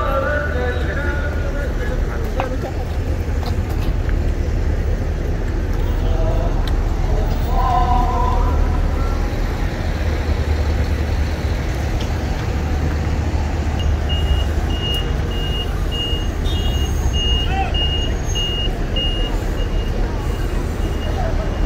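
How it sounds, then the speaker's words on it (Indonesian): Busy bus terminal traffic near Masjidil Haram in Makkah during Ramadan, with a continuous low rumble of idling buses and vehicles, faint voices of a waiting crowd, and a distant repeating reversing beep in the later part. "Ini salah satu terminal bis Ajiat ya, yang terdekat dengan Masjidil Haram ini"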